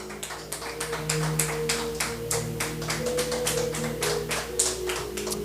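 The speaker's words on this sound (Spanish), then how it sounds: "¿Cuántos le dan palmas a Dios?" Church congregation clapping hands in praise to God, a steady rhythmic run of sharp claps over a low sustained hum of music or voices, continuous throughout and moderately loud.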